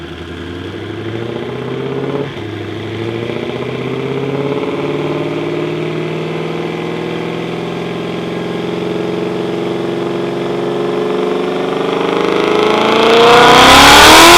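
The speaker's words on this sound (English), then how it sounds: "Whether you're idling or pushing it to the limit, this muscle car's exhaust sound is pure power." A supercharged V8 Ford Mustang GT500 muscle car burbles at idle through its exhaust, then climbs into a rising rev that swells loud and close near the end, with no voices present.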